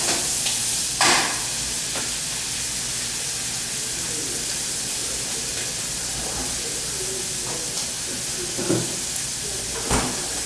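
Butter sizzling in a pan over lowered heat, a steady close hiss running throughout with occasional soft clicks and utensil taps, no voices present.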